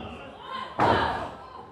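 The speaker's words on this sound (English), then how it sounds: "Slammed down into that corner." A wrestler is slammed into the ring corner at a women's wrestling match at the Berwyn Eagles Club, a single loud thudding crash over crowd noise, with a commentator talking.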